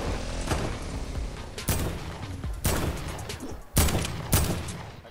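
Sniper rifles fire in a Fortnite match, a string of sharp cracks about a second apart over a busy bed of game noise, moderately loud and fairly close.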